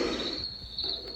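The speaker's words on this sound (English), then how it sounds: "little bit of crickets." Crickets chirp from a sleep sound machine as a thin, high, continuous trill over a faint steady noise bed, alone and fairly quiet.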